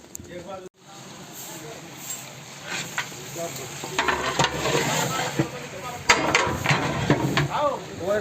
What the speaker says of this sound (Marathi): ही बकऱ्याच्या मुंडीचं कातड आहे ह्याला पूर्णपणे जाळावर हे संजय आमचा भाजत आहे